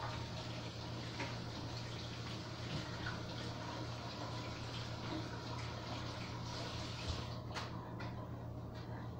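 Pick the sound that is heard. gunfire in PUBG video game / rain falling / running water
running water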